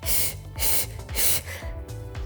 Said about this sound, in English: Breathe in and out.